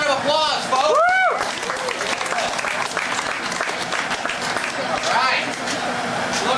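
Loud crowd applause at a Renaissance festival motor stage show, dense steady clapping with cheering and whoops from the audience, filling the whole stretch at close range.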